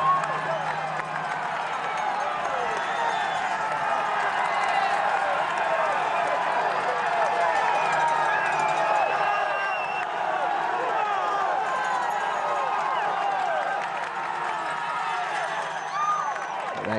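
Dense crowd of cycling fans packed along Blubberhouses hill, a steady roar of cheering and chatter that holds loud and continuous throughout, with scattered claps and shouts rising from the mass of spectators.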